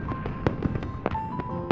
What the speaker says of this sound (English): making a wish when you see fireworks